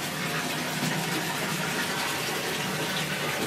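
Water running steadily in a Japanese toilet, a close, continuous rushing gush with no talk.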